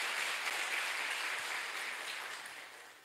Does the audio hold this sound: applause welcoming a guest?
yes